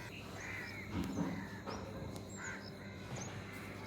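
Several bird calls ring out in the early morning against a steady outdoor hum, including harsh crow-like caws and higher chirps scattered across the moment.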